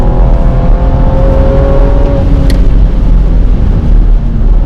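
A modified BMW 135i making around 430 BHP lapping a race track, its engine droning loud and steady throughout with a rising tone, close up and alone with no voices.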